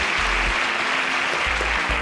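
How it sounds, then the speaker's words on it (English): A studio audience gives loud, dense applause with steady clapping from many hands throughout, filling the room at close range. "A round of applause for Juwon."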